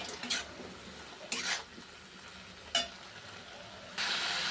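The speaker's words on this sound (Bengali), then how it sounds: "এবার মিক্সচারে বাটি জলটা দিয়ে একটু কষিয়ে নিই ভালো করে" Masala with salt, turmeric and a splash of water is sautéed in a pan for a tengra fish and pumpkin-shoot dish. Faint background hiss is punctuated by three brief stirring scrapes, then a louder sizzle swells at the end.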